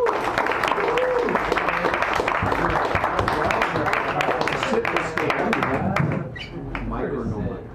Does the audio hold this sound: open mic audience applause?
yes